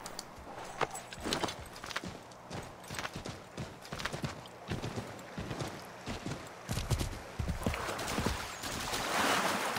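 Horse hooves clip-clopping in the Assassin's Creed III video game: a rapid, uneven run of sharp hoof strikes close by, continuing throughout over a faint background bed.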